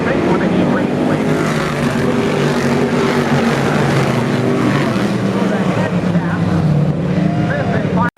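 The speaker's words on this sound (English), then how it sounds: "Down the last stretch, into turn 3 and 4, checkered flag is out, Alan Fink with a heat race lead." Race cars roar through a heat race at Brewerton Speedway in a continuous, loud engine drone, while an announcer calls the action over the noise.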